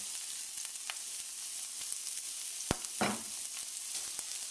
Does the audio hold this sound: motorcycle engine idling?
no